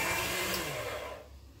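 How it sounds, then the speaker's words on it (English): A pasta machine rolls a sheet of polymer clay, giving a steady broadband whirring drone that runs for most of the moment, then drops away abruptly near the end and leaves only low quiet rumble. "I hope that pasta machine isn't too loud"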